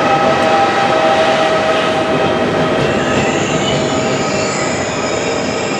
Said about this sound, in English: I'm sorry about the train here,